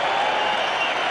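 A massive crowd applauds and cheers at a 1994 Manly Sea Eagles vs Canberra Raiders rugby league match, a dense, steady roar of clapping spread across the stands for about a second, with no voices standing out.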